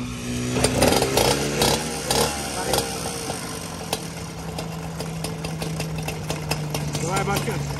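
A motorbike engine starts and idles after a clutch replacement. It runs loud and close with a steady buzzing drone and a few revs early on, while people talk over it.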